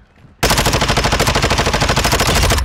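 Rapid automatic gunfire from the video game DMZ as a player shoots at bots, bursting in loud and sustained after a short quiet start, with dense, evenly spaced shots running to the end.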